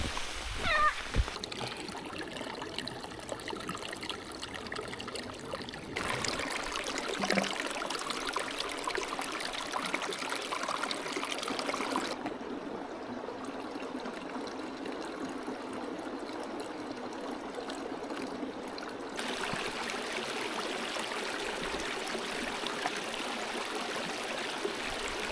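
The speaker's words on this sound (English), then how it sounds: "Running water." Stream of running water in the Lake District, a steady broadband rush and trickle heard close by and fairly faint, continuing without pause for the whole stretch.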